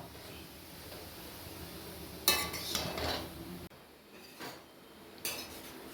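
Grated beetroot sautés in ghee in a pan for a beetroot halwa, with quiet scraping and clinking of a spoon against the metal in a few short bursts over a low background, no voices.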